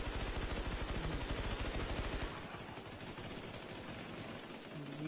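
Gunfire in a video game shooter plays as a rapid, loud burst of automatic fire that stops after about two seconds, followed by quieter sporadic game sounds and low chatter.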